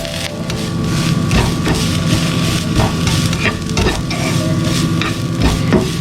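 Grated coconut, shallots, ginger, garlic and curry leaves roast in a pan as a spatula scrapes and stirs them in a steady, busy rhythm over a low sizzle.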